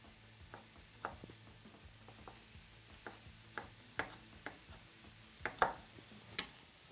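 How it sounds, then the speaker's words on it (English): A knife cuts a vegetable into matchsticks on a cutting board: quiet, fairly steady taps and clicks, close by and alone, with a few sharper knocks toward the end. "Then cut it into matchsticks."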